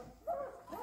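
German Shepherd puppies giving a short, thin whimpering yip, a single high whine near and fairly soft against quiet background.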